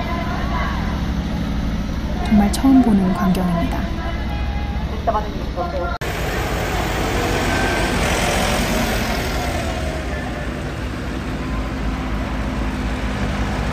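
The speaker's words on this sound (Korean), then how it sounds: "일본 동경에서 이런 트랙터 시위를 볼 거라고는 완전 상상도 못했어요" Tractors rumble and idle at a farmers' protest in central Tokyo over tax hikes and rising prices, a continuous engine drone with a nearby voice talking over it.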